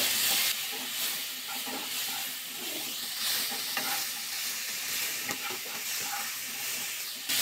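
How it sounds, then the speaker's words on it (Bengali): Loud, continuous sizzling of cauliflower frying in hot oil with salt and turmeric, with occasional scraping and stirring sounds and no talking. "লবণ হলুদ দিয়ে ফুলকপিটা ভাজা করে নিতে হবে।"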